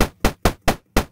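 Five punchy synthesized percussion hits built from brown noise in Vital thump out in a steady rhythm, each one a sharp, loud attack that decays quickly into silence, sounding like epic trailer drums.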